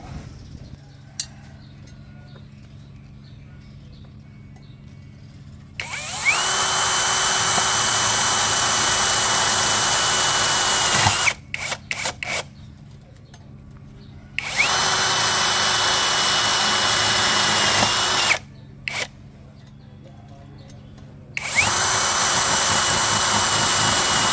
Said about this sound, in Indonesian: saya akan coba menyekrup menggunakan skrup self drilling seperti ini